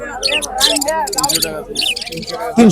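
Several birds for sale at Hemayetpur bird market, Bangladesh, in winter, chirp and call close by in quick, overlapping bursts, busy and loud, with a few sharp squawks.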